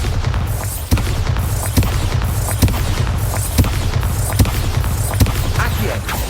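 Bombarda spell explosions against pumpkins in Hogwarts Legacy: a regular series of about eight sharp booming blasts roughly once a second over a dense, loud rumbling game background, with faint speech underneath.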